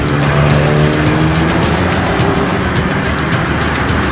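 Banger racing cars on an oval at Ipswich, including a big Daimler, roar away together at the start of a race, a loud continuous engine din with tyre squeal and skidding layered over it, close and unbroken throughout.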